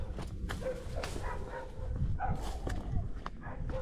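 Dogs barking around an abandoned village with residents nearby: several short, scattered barks and yips at middle distance over steady outdoor ambience, with no one talking.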